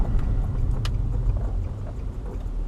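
Steady low road rumble and engine drone from a Subaru Forester driving along a road, heard from inside the cabin, continuous with a brief faint click partway through.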